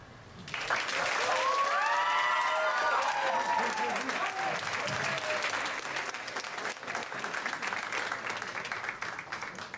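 An audience at a poetry night applauds a poet with sustained, dense clapping and cheering that holds steady at a strong level throughout, and excited voices rise over it near the start.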